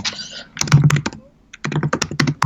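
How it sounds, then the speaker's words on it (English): Rapid clattering keystrokes on a computer keyboard in two bursts with a short pause between, loud and close-up, no talking. "Your typing is so loud."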